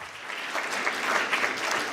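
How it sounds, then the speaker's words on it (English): A short round of applause from a seminar audience at a Ukrainian researchers' networking event in Germany, steady clapping at moderate volume across the room. "Also a short round of applause for her."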